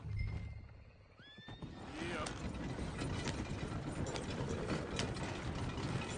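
A horse gives a shrill whinny that rises and falls in pitch, followed by several seconds of dense rattling, clattering noise that carries on loudly.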